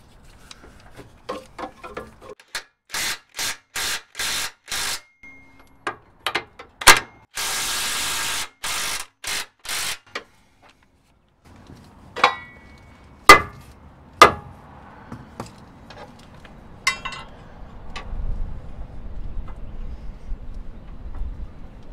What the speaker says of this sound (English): I'm gonna go ahead and loosen these like the instructions say